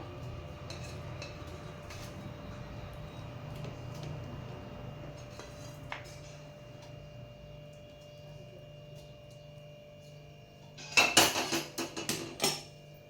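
Several sharp metallic taps against a greased tin filled with milk malai barfi mixture, clustered near the end over a steady background hum.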